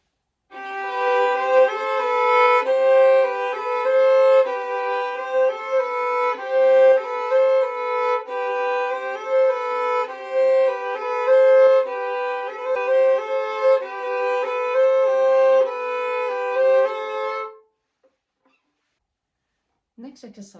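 A violin plays sustained double stops in a two-against-three rhythm, an interlocking pattern, clear and close, then stops, leaving near silence.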